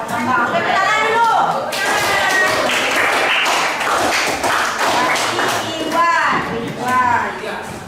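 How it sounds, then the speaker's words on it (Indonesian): Students in a chemistry classroom clap their hands together for a short stretch, a dense patter of claps mixed with children's voices and chatter, with a teacher speaking before and after. "Tepuk tangan dulu."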